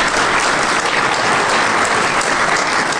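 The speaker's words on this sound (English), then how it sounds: "Everybody's like, hey, should we clap or should we just?" Audience applause after a live hacking demo at a DEF CON security conference, a dense steady roar of clapping hands from a large crowd, loud and continuous throughout.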